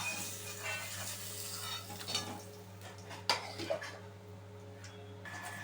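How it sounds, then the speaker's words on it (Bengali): Fish frying in oil in a pan over a medium gas flame, a steady close sizzle with occasional scrapes and clinks of a utensil against the pan. "গ্যাসের ফ্লেমটা মিডিয়াম করে রেখেছি, তো মাছগুলো যেন পুড়ে না যায়, ঠিক সেরকমভাবেই মাছগুলোকে ভেজে নিতে হবে।"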